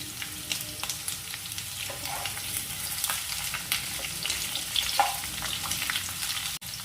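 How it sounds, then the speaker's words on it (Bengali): Drumstick and raw banana fry in hot oil for shukto, a steady crackling sizzle with occasional light stirring scrapes, close and continuous. "সজনে ডাঁটাটা একটু তেলে নেড়ে নেওয়ার পর দিয়ে দিলাম কাঁচা কলা"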